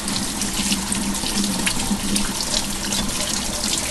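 A kitchen tap runs steadily into a sink as salty dried beef is rinsed under the stream, a continuous close, even rush of water with no voices.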